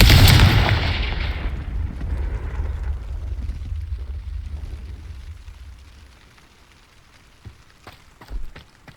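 A Confringo blasting spell from Hogwarts Legacy goes off with a loud, close explosion that rolls into a long rumbling decay over several seconds, followed by a few faint scattered pops near the end.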